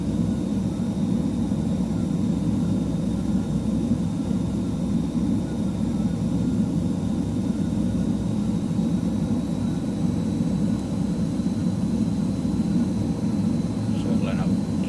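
Steady, continuous jet roar of a BAe Hawk T.2 trainer in Microsoft Flight Simulator, a broad unbroken rush held level throughout with a faint high whine on top.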